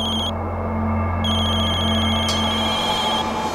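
A mobile phone ringtone sounds continuously, a bright repeating electronic melody close by over a low steady hum, with no talk.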